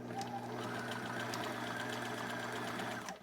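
A sewing machine runs a small link stitch with a fast, steady mechanical whir and rapid ticking, quiet and close, continuing for a few seconds before easing off.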